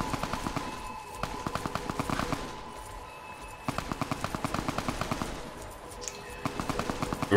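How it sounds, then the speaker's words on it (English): Automatic gunfire in Fallout New Vegas during a convoy ambush, rapid machine-gun bursts of evenly spaced shots in two long strings separated by a short pause, loud and sharp, with no talking. "Run towards the shooting."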